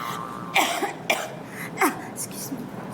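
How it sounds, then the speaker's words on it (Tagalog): A few short, sharp coughs, three distinct bursts spaced apart, close and fairly loud against a quiet background. "Paano umubo ang mayaman?"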